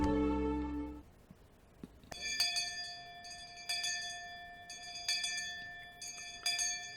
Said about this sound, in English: Just then, we heard a bell, far away, marking the end of our lunch break.